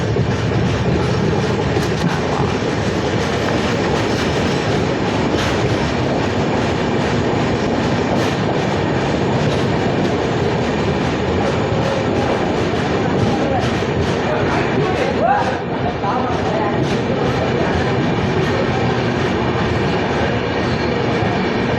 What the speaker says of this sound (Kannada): ನಮ್ಮ ವಾಸ್ಕೋ ಎಕ್ಸ್ಪ್ರೆಸ್ ಈಗ ನಮ್ಮ ವಿದ್ಯಾಕಾಶಿ ಆಗಿರುವ ಧಾರವಾಡಕ್ಕೆ ಬಂದೈತ್ರಿ